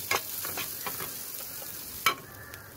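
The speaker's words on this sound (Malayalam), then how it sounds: "പച്ചമുളക്, പിന്നെ ചെറുതായിട്ട് അരിഞ്ഞ വെളുത്തുള്ളി, പിന്നെ കുറച്ച് കരിവേപ്പില, ഇതൊക്കെ ഇട്ട് മൂപ്പിച്ചതിന് ശേഷം" Green chillies, finely chopped garlic and curry leaves sautéing in a pan for grilled masala sardine, with faint frying hiss broken by a few scattered spoon scrapes and clinks, quiet and close.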